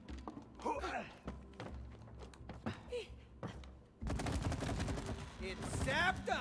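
Rapid bursts of sap fire from a goo-shooting weapon in the co-op game It Takes Two, a thick stream of thudding, splattering shots going loud and steady after a quieter stretch, mixed with game sounds and people talking.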